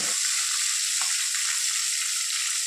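Okra sautés in a hot pan with a dense, steady sizzle and hiss, heard close and continuous with no voices.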